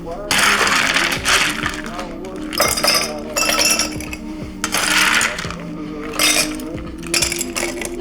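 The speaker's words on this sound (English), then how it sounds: "Now we're gonna ice these glasses up to the maximum." Ice cubes clink and rattle into cocktail glasses in repeated loud, bright bursts, close up. Constant glassy chinking runs throughout, with a voice talking underneath.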